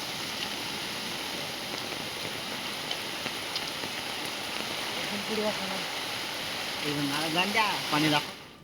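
Steady heavy rain hisses throughout, a dense constant wash of water, with faint voices surfacing near the end.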